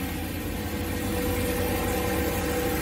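A boosted 408 LS engine runs steadily on its third start, a loud continuous rumble with a deep exhaust note and no voices.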